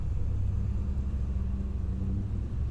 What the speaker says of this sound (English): every so often, a car drives by